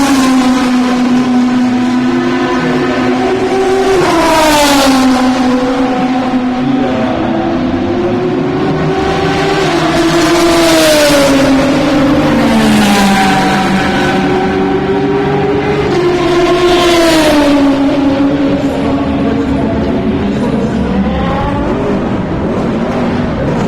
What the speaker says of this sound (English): Corvette leaving the pit.